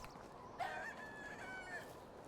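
In the Medieval Dynasty video game, a rooster crows faintly at a hen house, a single drawn-out call over quiet background ambience.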